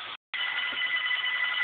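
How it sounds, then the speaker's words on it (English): A phone rings loud and close, a bright electronic trill that breaks off briefly and then carries on steadily, with a Roomba cleaning a hallway nearby and no voices. "And that's my phone ringing."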